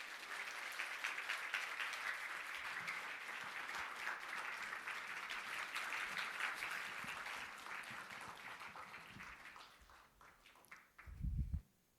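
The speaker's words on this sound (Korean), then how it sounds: "여러분 박수로 맞아 주시기를 바랍니다." A church congregation at a themed Sunday service gives sustained applause to welcome a guest speaker, a steady even clapping that lasts most of the stretch before fading and ending with a short low thump.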